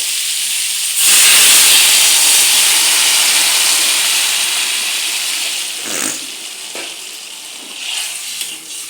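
Water poured into a hot pan of sautéed pointed gourd and potato with spices sets off a loud, sudden steam hiss and sizzle that swells close by, then slowly eases into a steady bubbling fry with a few stirring knocks.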